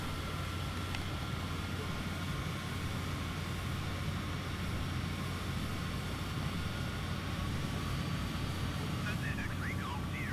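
The jet engines of a Cessna Citation CJ4 roar steadily in the Flight Simulator 2020 video game, a loud continuous broadband rumble with no break.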